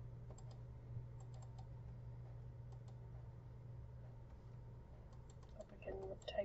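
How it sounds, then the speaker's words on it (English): Typing on a computer keyboard in a back office: light, irregular bursts of key clicks close by over a low steady hum, ending in a quick flurry of keystrokes. "I can type right here"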